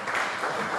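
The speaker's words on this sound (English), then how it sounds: "Big round of applause" Audience applause at a poetry festival, a dense burst of clapping filling the room briefly and evenly.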